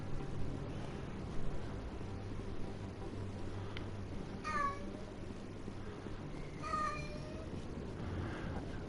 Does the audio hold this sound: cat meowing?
yes